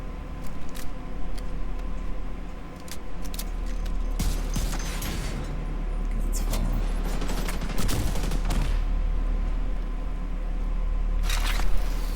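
Gunfire from shock rounds in the video game The Division 2, a dense run of sharp electronic shots with bursts around the middle and a louder cluster near the end, over a steady game background.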